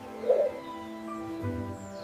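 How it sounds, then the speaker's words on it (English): A dove gives a soft, low coo close by, a short hollow note followed by a fainter second murmur, quiet and alone. "This is a dove."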